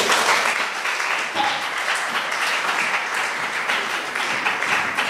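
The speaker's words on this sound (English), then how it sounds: "And I applaud you on that." An audience at a school prize-giving ceremony applauds, a thick, even wash of many hands clapping that holds steady and fairly loud throughout, with no voices standing out.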